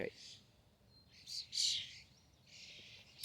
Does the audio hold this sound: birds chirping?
yes